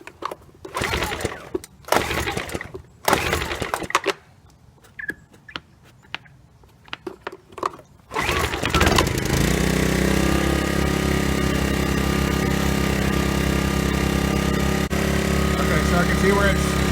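Speech and brief handling noises come first, then a Sportsman 1000 generator with a leaking fuel tank hose, set on choke, starts up and settles into a loud, steady engine drone that runs close and continuous to the end.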